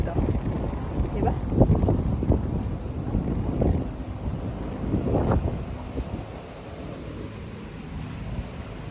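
Strong wind buffets the microphone in heavy, rumbling gusts that rise and fade, loud at first and easing toward the end.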